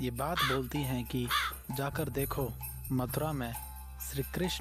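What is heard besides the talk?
crow cawing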